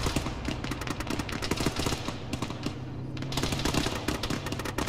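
Rapid, sustained gunfire from a video game weapon fired while lying prone, dense bursts of shots rattling continuously through the whole stretch, loud and close, with no talk over it.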